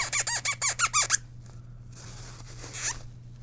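Cleaning the capstan of a Denon DR-M3 cassette deck gives a run of about seven rapid rhythmic squeaks, followed by softer rubbing and one final squeal, close and alone.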